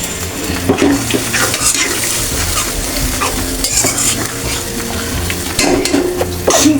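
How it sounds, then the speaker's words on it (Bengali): A salted spice paste of turmeric and chili powder frying slowly in a pan, with a constant close sizzle and repeated scraping stir strokes and occasional clinks of the spoon. "এখন মশলাটা আমি আস্তে আস্তে ভেজে নেব, ঢেকে দিলাম।"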